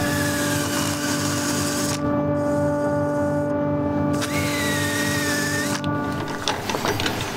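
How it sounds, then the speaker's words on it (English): A power sander works the inside of a walnut bowl carved from a single walnut cube, giving a steady close whine and hum with small shifts in pitch as the pad moves. "now I can again sand the inside."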